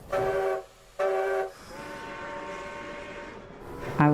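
A train passes with a horn: two short horn blasts, then a longer sustained horn blast, and a final loud blast at the end, set over rumbling rail noise.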